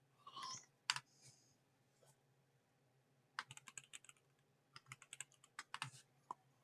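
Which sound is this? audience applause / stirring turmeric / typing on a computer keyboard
typing on a computer keyboard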